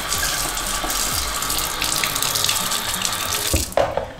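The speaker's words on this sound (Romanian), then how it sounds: "o să mai adăugăm și puțină apă" Water running from a kitchen tap while making a homemade sugar-free Nutella, a steady close gushing stream that cuts off near the end with a brief knock.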